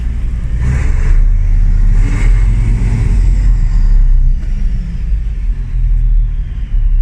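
A New Holland 2205 forage harvester's DAF diesel engine runs close by, a heavy, steady low rumble with a brief rise in revs and slight dips in level, with no talking.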